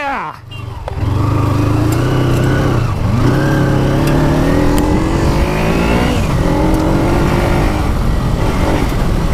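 A Kawasaki Ninja 250 converted into a dirt bike revs hard out in the desert, its loud engine note climbing and falling in repeated sweeps after a short dip at the start, with a voice heard faintly underneath.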